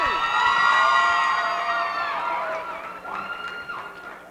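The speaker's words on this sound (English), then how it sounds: "Give them a round of applause." A crowd cheers and whoops loudly at a home gymnastics show, with high, shrill young voices carrying over the noise. The cheering swells early, eases off, then rises again in a second burst near the end.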